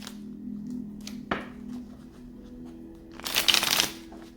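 Tarot cards being shuffled in a brief riffle, with a soft tap partway through and a louder, denser shuffling burst near the end, close and alone.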